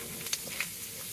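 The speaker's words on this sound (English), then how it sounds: "Throw all of our asparagus in a skillet. Let that sit for a second and simmer." Asparagus simmers in a skillet with a faint, steady hiss and sizzle and a few soft ticks, quiet and alone.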